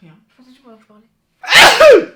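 A single loud, sharp human sneeze bursts out right after a few soft spoken words, close and clear.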